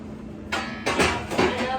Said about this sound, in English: we're going to prepare a baking sheet with whatever cooking spray you have on